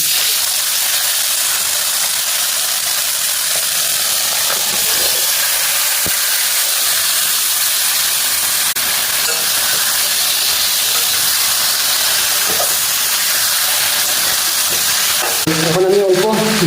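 Chicken leg pieces sizzling in butter in a pan, a dense continuous hiss of frying that holds steady for the whole stretch, with a faint clatter and brief murmur near the end.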